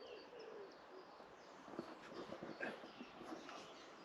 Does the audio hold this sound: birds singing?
yes